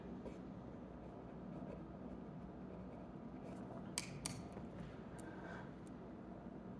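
A pen moves across paper while working through a geometry problem on the angle between two lines, giving faint, soft scratching strokes with a couple of sharper taps midway.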